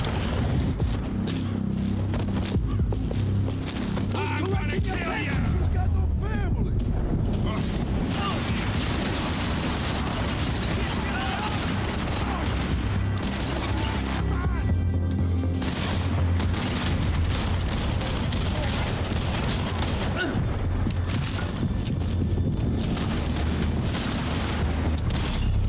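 Continuous gunfire and booming explosions from the shooting video game Max Payne 3 run through a dense, loud mix of game sound with overlapping voices.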